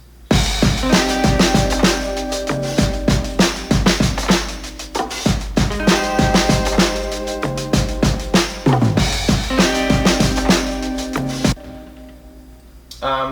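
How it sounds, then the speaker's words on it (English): Breezy electric guitars ride on top of a full song mix with acoustic guitars, bass and driving drums, loud and continuous, dropping away shortly before the end. "we have just some sort of breezy electrics that sound like this."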